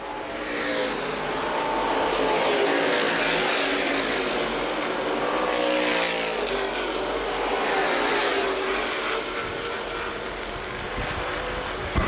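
Street stock cars racing at Winchester Speedway during a CRA 40-lap event, a steady, loud roar of engines sustained throughout with swelling passes and no talk.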